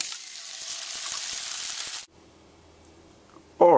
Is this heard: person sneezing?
no